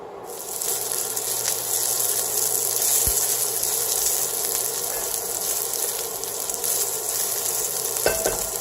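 Onions frying in a little olive oil for chili, with a dense, even sizzle that carries on throughout, a few faint utensil clicks, and a brief sharper rattle near the end; no voices.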